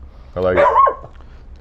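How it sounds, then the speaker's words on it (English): A pet dog barks and yelps nearby in a short loud burst, with a voice speaking just before and after. "that's our dog"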